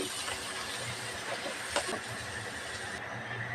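Onions fry in hot oil, producing a faint, steady hiss with a few soft crackles, heard alone without talk.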